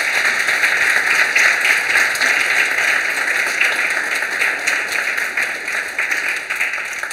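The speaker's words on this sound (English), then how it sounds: "give another round of applause to our performers tonight" Audience at a June piano recital breaking into sustained applause, a dense wash of many hands clapping together that stays loud throughout and eases only slightly toward the end.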